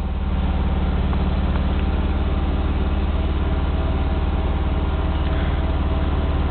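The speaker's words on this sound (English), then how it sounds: "the truck's running at a real fast idle right now" A pickup truck engine runs at a fast idle, a steady, close, unbroken mechanical drone with a rough low-end throb and no talking.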